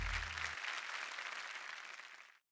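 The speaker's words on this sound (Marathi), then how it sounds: "शोभाजींसाठी जोरदार टाळ्या झाल्या पाहिजेत." Audience applause on a Marathi television game show, a steady burst of many hands clapping that carries on for about two seconds and then stops abruptly, heard without talk.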